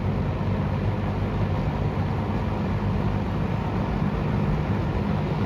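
A 1975 TG&Y by Champion fan running on high, giving a steady, loud, broadband rush of moving air with an underlying motor rumble, constant throughout without pauses or voices.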